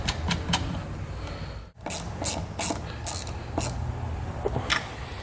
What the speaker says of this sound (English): Then we can tighten everything down.